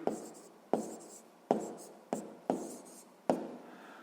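A pen writes numbers on paper up close, six distinct strokes marked by sharp taps and short scratchy scribbles in a steady rhythm.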